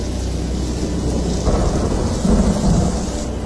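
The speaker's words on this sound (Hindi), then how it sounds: "बिजली कड़क रही है" Loud rolling thunder with steady heavy rain pouring down, a deep rumble swelling midway and again near the end, with no voices.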